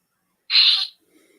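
A single short, breathy bird call resembling an owl, heard alone against silence, with a faint low trailing note afterward.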